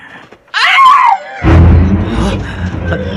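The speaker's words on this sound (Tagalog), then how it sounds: "May babaeng sumigaw?" A woman's high, wavering scream rises sharply and breaks off, followed by a sudden low rumbling whoosh in a Filipino horror drama about a manananggal, with a dark, tense ambience trailing after.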